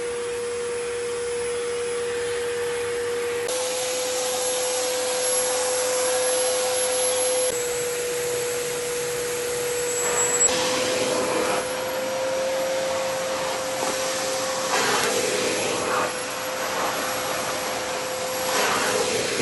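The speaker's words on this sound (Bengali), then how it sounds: "এটার ব্লোয়ার ফাংশন হেল্প করে two unsettle the dust particles on tricky areas" A canister vacuum cleaner runs in blower mode with a steady, loud whine and rushing airflow that shifts pitch slightly a few times, heard alone and close.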